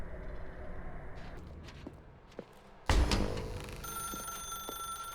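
A telephone in The Stanley Parable video game suddenly rings after quiet footsteps and ambience, a loud bright ringing burst that then settles into a sustained electronic tone.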